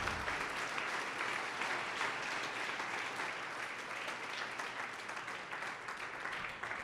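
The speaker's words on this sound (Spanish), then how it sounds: "Dele un aplauso, hermano" A church congregation applauds during a pastor's sermon, with steady, dense clapping from many hands that holds for several seconds at even strength and fades slightly near the end.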